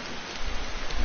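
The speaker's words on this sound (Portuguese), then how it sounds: "Tá chovendo." Rain falling in the video game White Night, a dense steady hiss of rainfall with a low rumbling undertone that swells slightly louder partway through, no talk.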